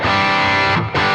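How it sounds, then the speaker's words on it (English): Electric guitar run through an Earthquaker Devices Black Eye Boost pedal into an amp, a loud, full, driven chord ringing out, briefly cut, then struck again. "The next pedal in the chain is an Earthquaker Devices Black Eye Boost, and that sounds like this."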